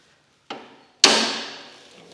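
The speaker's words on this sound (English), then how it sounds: "Got a brass bar and a hammer." A hammer strikes a brass bar twice, a lighter tap then a sharp, loud metallic blow that rings and decays slowly, with no other sound around it.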